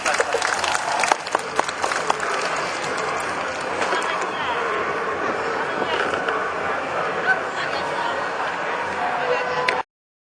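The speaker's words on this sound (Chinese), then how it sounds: "我们再次热烈的掌声" Sustained applause from an audience at a school art show performance held during a Taoist temple festival in Madou, Taiwan, continuous dense clapping for about ten seconds before cutting off abruptly.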